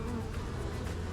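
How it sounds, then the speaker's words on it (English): Honeybees buzzing densely around a hive frame lifted out of the box, a continuous close, steady hum of many wings with no talking. "They're just the male bees."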